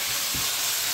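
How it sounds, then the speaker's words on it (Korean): Korean pancakes (buchimgae) fry in a pan with a steady, dense sizzle and hiss that stays even and fairly loud throughout, with no voices. "지글지글지글"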